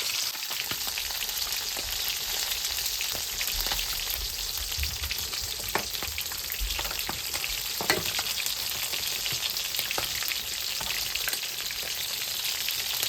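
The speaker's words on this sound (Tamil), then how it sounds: "லைட்டான சூட்டில் மீனை போட்டு பொறிச்செடுக்க வேணும்" Soodai fish frying in hot oil, a steady dense sizzle and crackle that holds evenly throughout with occasional sharper pops.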